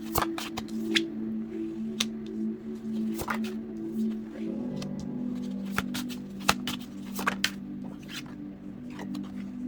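Tarot cards are shuffled by hand, producing a soft, rapid run of papery clicks and riffles close by, over a steady low electrical hum.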